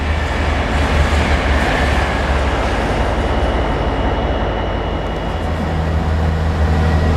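A train pulling out of Didcot Parkway station, a steady broadband rumble and roar of wheels and engine that stays loud and even throughout, with no voices.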